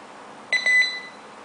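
A U8 WiFi/GSM alarm system gives a short response of two or three bright electronic beeps in quick succession, fairly clear against a quiet room, then falls silent.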